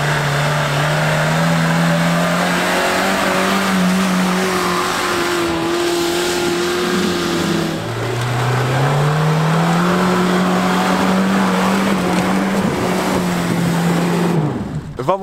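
Suzuki Samurai and Suzuki Grand Vitara off-roaders rev hard climbing a muddy clay hill, engines droning loud and close with rising and falling pitch, one engine dipping then climbing again near the end.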